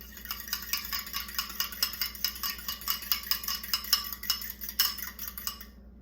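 A utensil clinks and scrapes steadily against a dish while mashed egg yolks are stirred, in a quick, even rhythm of close metallic taps over a low background hum.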